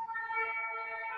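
A siren wails steadily, its tonal harmonics holding fairly level, faint but clear with no talk.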